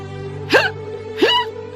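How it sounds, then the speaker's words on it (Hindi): Two loud, sharp hiccups about half a second apart, each a quick rising gulp over a steady background hum, from a person with a cold. "और बहुत तेज हिचकी आ रही है।"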